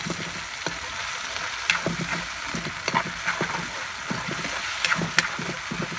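Eggplant and tocino frying in a pan while being stirred, giving a steady close sizzle broken by repeated scraping stirs, with no talking.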